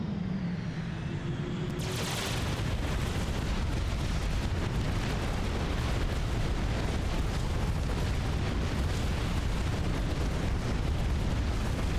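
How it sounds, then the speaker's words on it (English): Anti-air guns firing in the real-time strategy game Supreme Commander, a dense, continuous roar of overlapping bursts and booms that starts abruptly and stays loud throughout, with no talking. "there are AA guns shooting me from outside the map"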